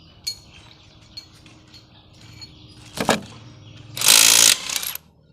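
Osuka OSID520 128V cordless impact wrench with a 4Ah lithium battery removing wheel nuts, with a few metallic clinks and a clank before a loud, close, roughly one-second hammering burst from the tool.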